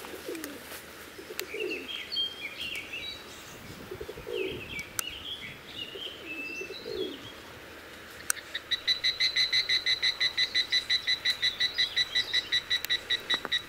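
Birds chirp in short outdoor bursts, then a fast, regular high-pitched call repeats rapidly near the end; no talking.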